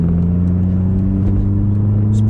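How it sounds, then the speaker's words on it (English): A Volkswagen Golf GTI MK4 with a 1.8T engine hums steadily from inside while driving, a low, even engine drone with slight shifts in pitch and a few faint clicks. "So I think the car's running better."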